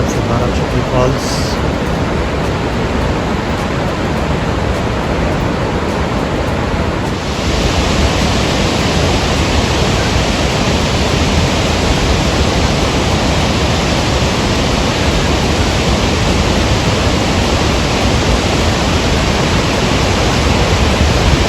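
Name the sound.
Barachukki waterfall in Karnataka, closer view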